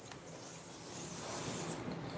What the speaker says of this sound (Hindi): चलो अब सबसे पहले शाइन स्प्रे करेंगे